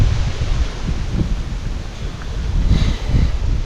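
Strong wind gusts buffet the microphone outdoors, a loud, rumbling roar that swells and eases with faint rustling behind it.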